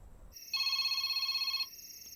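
A phone rings with a single short electronic tone burst of about a second, its bright pitched trill standing alone over a faint background.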